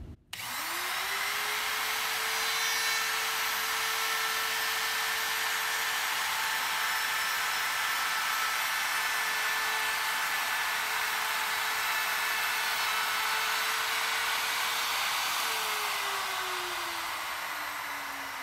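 A wood router spins up to a loud, steady high whine, holds it while cutting into a wooden workpiece, then drops in pitch as it begins winding down near the end.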